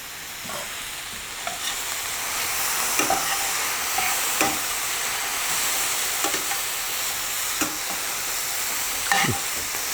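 Onions sizzle and fry in a pan for curry, a steady loud hiss broken by repeated scraping stirs at an irregular pace.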